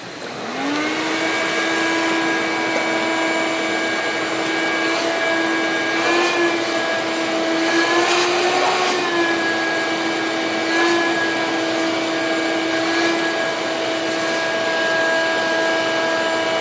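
A vacuum drawing suction during boat upholstery installation runs steadily and loudly the whole time, a constant whining drone with a sustained tonal hum that shifts slightly in pitch now and then.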